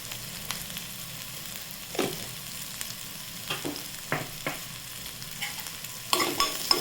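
Sprouted mung beans are stir-fried in a pan with a faint, steady sizzle, broken by a few scattered scrapes and clacks of the spoon and a louder burst of stirring near the end, close and quiet, with no voices.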